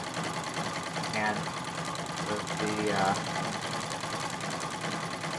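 A Singer 66 treadle sewing machine runs steadily during free motion quilting, a continuous quiet whirring chatter of the needle with a brief spoken word over it.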